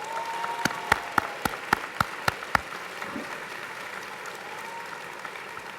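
Commencement audience applause for parents and families at Millersville University, steady crowd clapping with one nearby pair of hands beating out sharp, evenly spaced claps before it fades back into the general applause.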